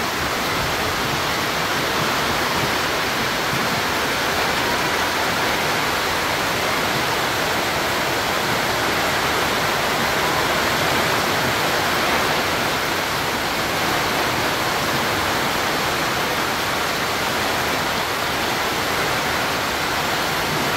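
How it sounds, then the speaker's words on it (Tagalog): Heavy typhoon rain (Bagyong Paolo) pours at sea amid wind and waves, a dense, loud, unbroken hiss from start to finish. "Ay, sobrang lakas ng ulan."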